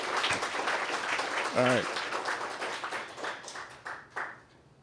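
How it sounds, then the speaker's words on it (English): Clapping breaks out at an appreciation luncheon for Parker's Lighthouse, a crowd applauding steadily while a voice briefly speaks over it, then the clapping thins into a few separate claps and fades out. "Clap it up for Parker's Lighthouse."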